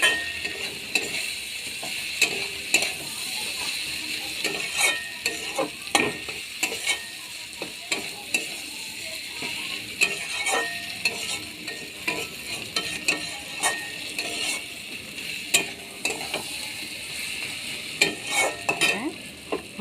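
Rice grains are stirred and mixed in a frying pan with banana-flower curry, giving a soft continuous sizzle broken by repeated scraping taps of the spoon, close and moderately quiet with no talk.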